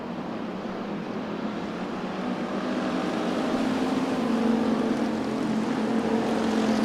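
Bomber-class race cars roaring around an Arizona speedway oval, a continuous loud engine drone that swells slightly as the pack heads into a turn, with no one speaking.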